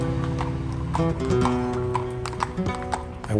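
Horses clip-clopping along a street during a week-long festival celebrating horse riders in Tarifa, Spain, with repeated hoof taps over a steady background of crowd noise and music.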